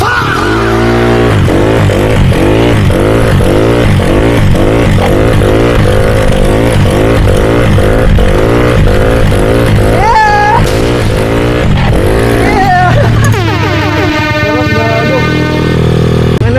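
A motorcycle engine revving repeatedly during a slow wheelie practice, loud and close, with rhythmic rising and falling surges that end in a sustained high rev.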